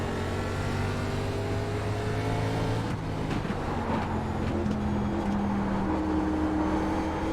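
In iRacing at Myrtle Beach, a race car engine drones loudly, then its pitch drops and shifts as the car slides out of control with failing brakes, alone without talk.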